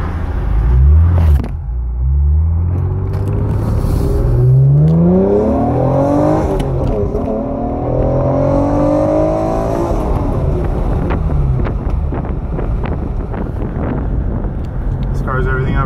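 A Honda NSX engine revs hard on a test drive, its note climbing and falling in loud, close sweeps over a constant rumble, with people talking over it.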